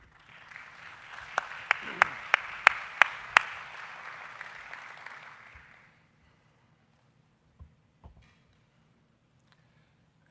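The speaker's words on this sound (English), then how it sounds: "And that applause is for Father Menrad." Applause at a university athletics hall of fame ceremony, a broad crowd clapping with several sharp, close individual claps standing out, dying away after about six seconds into near silence with a few faint knocks.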